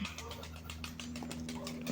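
A pigeon gives low, steady cooing close by, mixed with soft fluttery rustles, while people talk over it throughout.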